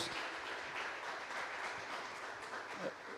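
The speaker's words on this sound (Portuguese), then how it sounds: "Uma salva de palmas para Jesus" Applause from a church congregation, a dense steady wash of clapping lasting a few seconds at moderate distance.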